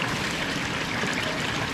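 Steady rushing river water flows continuously, a close, even babble of a shallow current.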